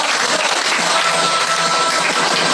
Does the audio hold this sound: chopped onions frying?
no